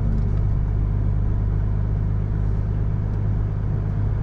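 A car rolls slowly onto the grounds of a station, its steady low engine rumble continuous and close throughout, with no voices.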